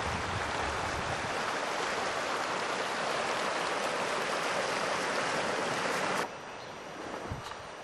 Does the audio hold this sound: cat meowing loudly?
no